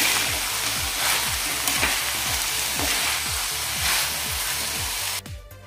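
Bitter gourd (karela) bhaji sizzling and frying in a pan while being stirred, with steady spatula scrapes repeating in a regular rhythm over continuous loud sizzle, cutting off abruptly near the end.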